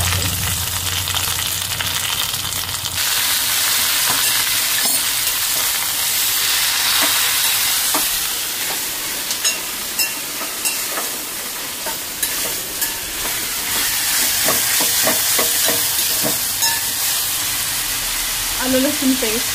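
Spices, salt, turmeric and ginger-garlic paste fry in a pan for spinach chicken, giving a loud continuous sizzle with repeated scraping stirs through most of the stretch.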